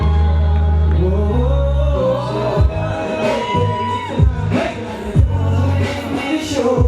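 A festival concert crowd at a desi music event cheers and whoops loudly throughout, mixed with live music and a performer's amplified voice.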